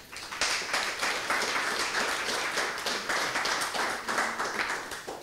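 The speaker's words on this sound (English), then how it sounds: "That applause is good." A lecture audience in Dallas applauds, a dense, even patter of many hands clapping at a moderate distance, fairly quiet and continuous for several seconds.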